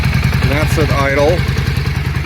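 A 1997 Yamaha Virago 535 motorcycle engine idles with a steady low pulsing throb, close and loud, while someone talks over it.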